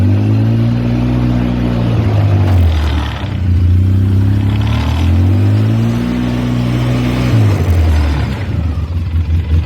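A 2003 Polaris Sportsman 600 Twin ATV, restarted after sitting more than two years, runs loudly up close while reversing. Its engine hums steadily and rises and falls through several revs, with no talking over it.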